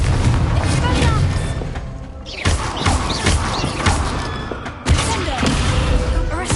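Confringo spell blasts go off in Hogwarts Legacy, booming thuds and crackling bursts that land one after another over constant game noise, while a player keeps shouting spell names.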